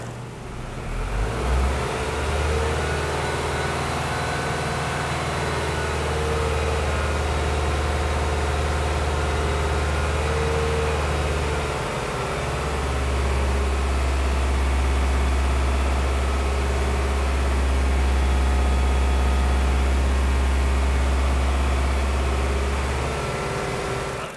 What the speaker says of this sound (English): the idea is to hold the engine at about 2000 RPM